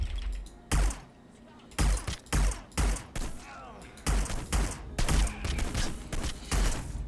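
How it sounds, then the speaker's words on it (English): Gunfire in Hitman: Blood Money, a series of loud, sharp broadband bursts spaced roughly a second apart, some in quick pairs, with faint game noise between them. "shoot him in the body, and then 1, 2, and 3 headshots"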